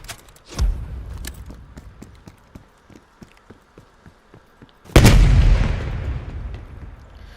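A spawn tube launched mid-jump in Black Ops Cold War on the Garrison map: a sharp launch burst, then lighter ticking steps, then a loud booming blast that fades into a long rumbling tail.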